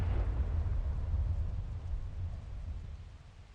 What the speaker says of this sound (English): Countless shells come down with the rain, exploding the moment they contact the ground and walls.